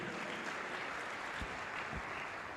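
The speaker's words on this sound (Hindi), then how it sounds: "तारीफ करो ताली बजाकर जोर से परमेश्वर की।" Loud, dense clapping from a church congregation praising God, a steady wash of hands with a couple of low thumps, filling the whole moment without talk.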